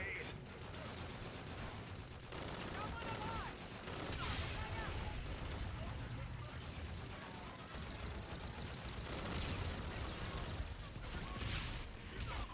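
Sustained anti-aircraft gunfire rattles through a battle in the video game Infinite Warfare, a dense stream of rapid shots and mechanical clatter heard faintly under a continuous roar of combat.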